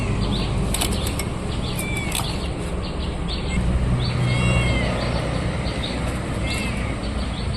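A cat meows a few times in short rising-and-falling calls over steady background noise.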